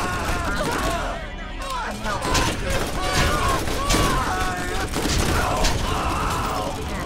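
Gunfire rattles in the video game Borderlands, with rapid overlapping shots and mechanical clatter running continuously and loud, while voices talk over the action.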